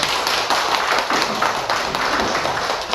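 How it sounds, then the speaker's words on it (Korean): A church congregation breaks into applause, dense continuous clapping filling the room at close range without a break for about three seconds. "저희 박수를 한번"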